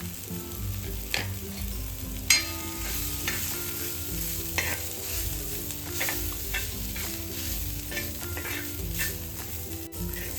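Green chickpeas are sautéed in hot oil for thecha, sizzling steadily with repeated stirring scrapes and occasional light taps of a utensil against the pan. No one speaks.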